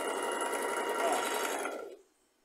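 A sewing machine runs steadily, stitching fabric along a seam guide for about two seconds, then the motor stops and it falls quiet.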